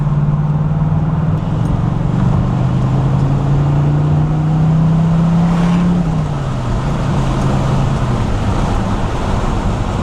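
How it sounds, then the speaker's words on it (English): A fully restored 1977 Pontiac Firebird Trans Am with a 4-speed drives down the road, its engine a loud, steady drone that drops in pitch partway through, over constant road and tire noise. "you could cruise this car at 70 miles an hour in 4th gear all day long"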